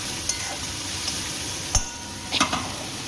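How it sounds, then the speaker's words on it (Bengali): Spice masala frying steadily in hot oil for a vetki fish and potato curry, a constant close sizzle with a few sharp spatula clicks against the pan. "এবার খুব ভালো করে নিয়ে নেব, ভালো করে কষিয়ে নেব।"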